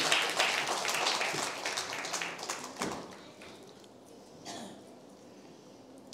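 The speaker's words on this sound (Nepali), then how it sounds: "ताली दिनुहोस्" A church congregation applauds, a dense burst of clapping that is loud at first, then thins and fades over several seconds, with a small later swell before dying away.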